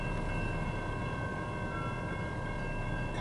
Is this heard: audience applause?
no